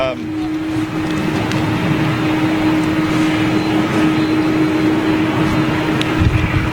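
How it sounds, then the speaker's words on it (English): Jet engine roar from a GE CF6-powered airliner at New York JFK airport, a steady loud broadband rumble with a sustained tone running throughout, with faint voices under it. "Yeah, that's the CF6. They sound great."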